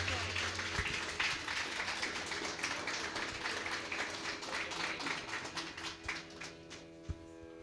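Applause at a school farewell ceremony for a graduating class, a steady crowd clapping that carries on throughout at moderate level, with some louder individual claps near the end.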